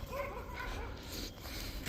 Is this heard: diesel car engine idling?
no